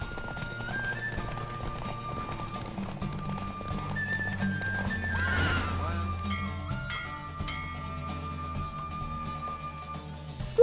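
In The Witcher 3, a horse gallops during a race with rhythmic hoofbeats and a brief neigh, mixed under tonal game music and effects at moderate loudness.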